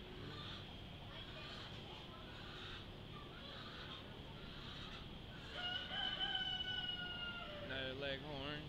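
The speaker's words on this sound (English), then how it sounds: "Another leg horns. Pretty one." White leghorn chickens at a county fair poultry barn cluck steadily in a dense, noisy hall, with a rooster's crow rising clearly near the end over the constant background din.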